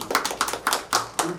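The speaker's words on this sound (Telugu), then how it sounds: "చప్పట్లు కొడదామమ్మా." Hands clap in short, uneven bursts during a church prayer gathering, a handful of close, sharp claps rather than a large crowd.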